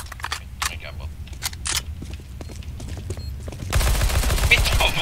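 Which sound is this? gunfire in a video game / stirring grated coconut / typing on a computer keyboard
gunfire in a video game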